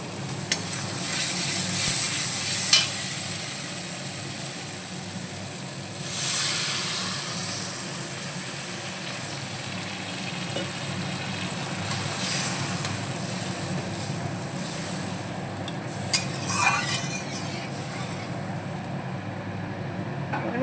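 Spice paste sizzling steadily in hot oil while being fried and stirred for a Bengali bhola fish curry, a continuous loud hiss with occasional clinks of a spoon against the pan.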